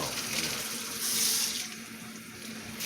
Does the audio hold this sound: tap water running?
yes